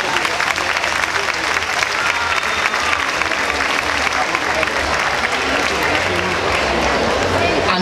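Loud, sustained applause from an audience at an awards ceremony for decorated streets during the Festa Major de Sants: dense, even clapping fills the whole stretch without pause, close and full.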